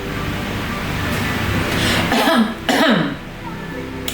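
A couple of close, rough coughs rise out of steady low background rumble, spaced about half a second apart.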